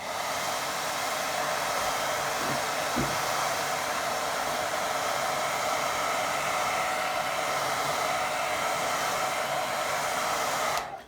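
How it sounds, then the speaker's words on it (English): A hair dryer on low heat blows steadily with a constant airy whoosh for about ten seconds, with a couple of faint knocks early on, then cuts off. "So that's why I've got my hairdryer on a low heat."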